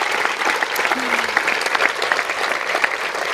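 Sustained crowd applause at an outdoor referendum campaign rally in Camp de Tarragona, a dense, steady wash of many hands clapping with no voices standing out.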